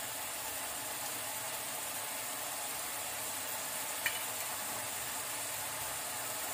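Onions with a half spoon of salt fry in a pan, producing a faint, even hiss of sizzling oil with one small sharp tick midway, no talk.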